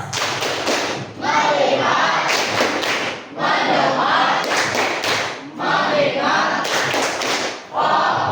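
A class of children performs a rhythmic hand-clapping routine in a school science lesson, loud bursts of patterned claps in several repeating phrases, with children's voices chanting between and over the claps.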